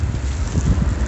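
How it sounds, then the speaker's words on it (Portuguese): Strong wind gusting past a hot dog cart outdoors, a steady loud roar of wind buffeting the microphone, close and continuous with no voices. "O vento chegou a levantar a cortina ali pra cima."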